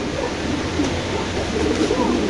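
A Mundian pigeon coos nearby in soft, low, repeated murmurs over a steady background hum of other birds.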